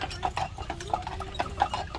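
Hackney horses' hooves clip-clop on the floor of a barn on Mackinac Island, a close, uneven series of sharp knocks as the horses are led out, with no talk over them.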